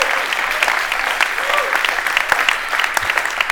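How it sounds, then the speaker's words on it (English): Audience applause for a Peace Corps volunteer and college graduate at a congressional event, a steady dense wash of many hands clapping at moderate loudness throughout. "we should applaud that."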